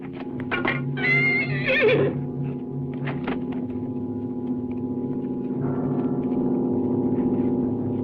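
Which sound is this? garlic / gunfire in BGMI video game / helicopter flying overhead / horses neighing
horses neighing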